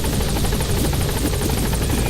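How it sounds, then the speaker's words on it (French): A helicopter in the video game Metal Gear Solid V: The Phantom Pain thuds loud and close, a rapid, steady rotor chop over a thick engine drone with no pauses. "La rentrée de l'hélicoptère."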